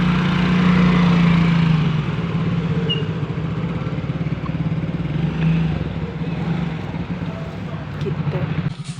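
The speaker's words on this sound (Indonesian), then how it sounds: "Papa keluar itu motor." A motorcycle engine runs close by at a steady putter as it is taken out, with a louder rev at the start and people talking over the continuous idle.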